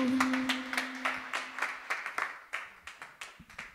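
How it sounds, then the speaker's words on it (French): Audience applause for a performer at the 2020 "On Bûche Pour Eux" charity event at the Hard Rock Café, a burst of scattered hand claps with uneven rhythm, moderately close, with no talking over it. "Bravo Léandre, on peut l'applaudir bien fort, encore plus fort."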